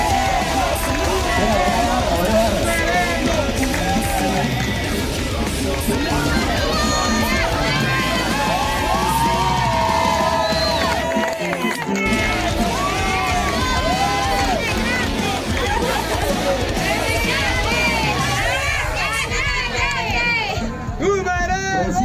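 A crowd at a race awards ceremony applauds and cheers, with dense clapping, shouts and babble that stay continuous throughout.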